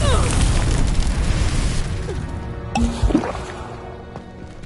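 A fiery spell explosion in the wizarding video game Hogwarts Legacy: a heavy, booming blast at the start that rumbles and fades, followed by faint magical whooshes and a voice calling out briefly.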